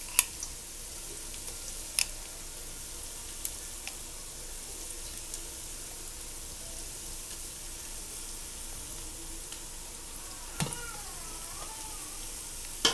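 Onions sautéing in a pan for mutton biriyani give a quiet, steady sizzle throughout, with a few sharp clinks of stirring and no talk.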